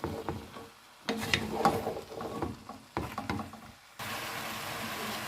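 Cauliflower and chicken are stirred in a pan with scraping and shuffling bursts and a soft sizzle, fairly quiet and close, with short pauses between stirs and a steadier hiss in the last second.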